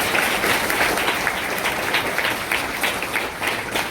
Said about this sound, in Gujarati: એને એક વખત આપણે તાળીઓથી વધાવીએ